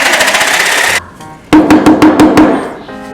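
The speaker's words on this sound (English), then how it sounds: "Travis is trying to sand the paint off right now." Loud, rough sanding on a broken sink to strip its paint, starting with a steady scratchy stretch, then a short pause, then a rapid series of about seven quick rasping strokes, with no voices.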